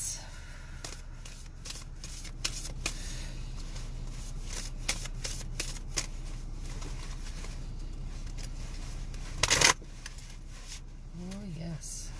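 Tarot cards being shuffled for a card reading inside a vehicle, a run of soft, irregular riffling flicks, with a brief louder burst near the end and a quiet bird-like coo after it.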